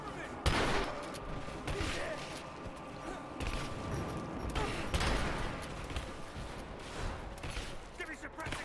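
Sustained gunfire in Rise of the Tomb Raider, dense repeated shots and crashing impacts throughout, with game voices speaking over the barrage.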